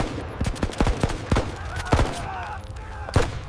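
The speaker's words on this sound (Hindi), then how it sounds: "Keep firing. फायर करो।" Gunfire in a Hindi dacoit drama set in the Chambal ravines, with a rapid string of sharp, loud shots cracking irregularly throughout, some close together like bursts, while voices shout faintly in the mix.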